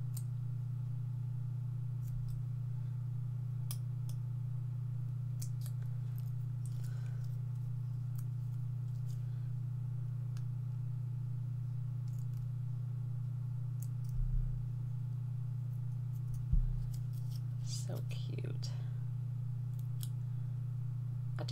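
Scissors snip small card pieces trimmed from die cuts for a handmade house-fold card, a few soft, sparse clicks and cuts over a steady low electrical hum in a quiet room.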